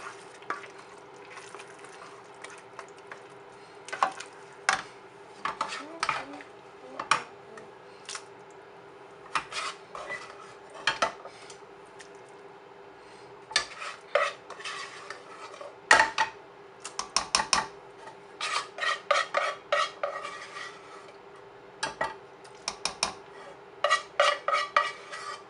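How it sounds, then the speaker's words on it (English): A spoon scrapes and clinks against a pot while black-eyed beans are stirred into a red red stew, giving irregular close-up taps and rubbing strokes with brief pauses between them, and no talking. "So I just spoon the black-eyed beans into the stew. Spoon that in the give it a stir."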